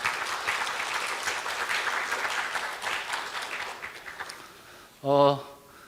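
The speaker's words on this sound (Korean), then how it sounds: "힘찬 박수로 맞이해 주실 겁니다" Steady applause from a forum audience welcoming a guest at a Korean education event, loud and continuous for several seconds, fading at the end before a brief voice.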